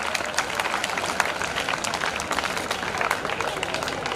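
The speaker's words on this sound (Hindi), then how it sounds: "तालियां बजाते रहिए आप लोग" An audience at a school gathering claps continuously in a dense, even patter, loud and close throughout, with no talk standing out above the applause.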